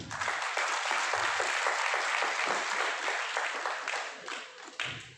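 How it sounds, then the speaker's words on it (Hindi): An audience at a gathering with Swami Ramdev bursts into loud applause, a thick rush of clapping that holds strong for several seconds before thinning out near the end. "जोरदार तालियां"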